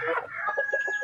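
Village desi chickens cluck close by, a short run of loud, rhythmic clucks in quick succession.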